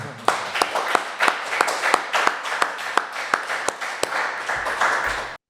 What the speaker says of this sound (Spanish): Un aplauso para Marcel, ¿vale?